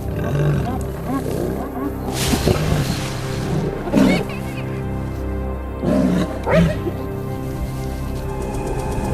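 Hyenas confront a lioness in the wild, giving out loud growls and snarling roars in repeated bursts. A steady background wash runs underneath, with a narrator's voice over the animals.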